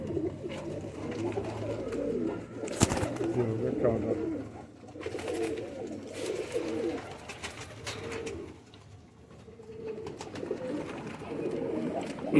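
High-flying kabootar pigeons coo softly and steadily in a loft, low throaty calls running throughout, with someone talking over them.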